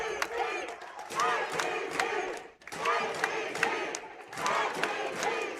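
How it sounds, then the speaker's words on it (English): A basketball crowd at a state championship game chants in loud, rhythmic bursts, swelling and dropping in repeated waves with cheering mixed in. "This JPG crowd is chanting something. It sounds like 446."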